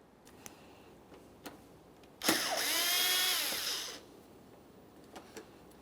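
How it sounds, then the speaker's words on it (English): A cordless power screwdriver backs out a Phillips head mounting screw from a 1994-1997 Honda Accord corner light, a single whirring burst of under two seconds between faint clicks and quiet pauses. "Go ahead and remove that mounting screw."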